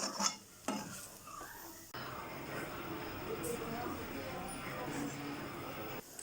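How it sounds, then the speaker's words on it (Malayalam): Spoon scraping and stirring Kerala-style squid roast in a pan, a steady clatter of metal on cookware with light sizzling, close and continuous, with a voice talking over the start. "അത് എല്ലാം നന്നായിട്ടൊന്ന് മിക്സ് ചെയ്തെടുക്കുക."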